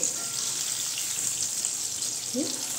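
Chicken popcorn pieces deep-frying in hot oil give a steady, close sizzling hiss that holds evenly throughout, with no other sound over it.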